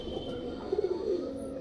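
Pairs of pure-bred pigeons coo softly in low, rolling burbles that swell in the middle of the short stretch, close by over a steady faint background hum.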